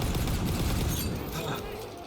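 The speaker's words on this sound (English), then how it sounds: "There's a mortar?" Mortar and gunfire blasts in the Far Cry 5 video game, a dense, loud barrage of booms and explosive rumble that fades slightly toward the end, with game voices mixed in.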